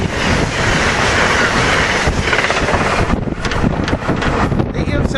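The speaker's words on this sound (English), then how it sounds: "Here comes train 94 with an AEM 7 leading." An Amtrak Northeast Regional train led by an AEM-7 electric locomotive roars past close by, loud rumbling and rail clatter mixed with heavy wind buffeting on the microphone.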